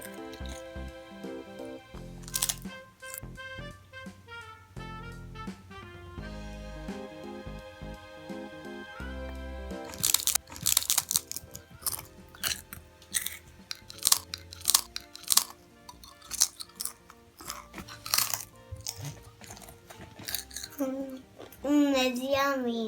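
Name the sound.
child crunching honey butter potato chips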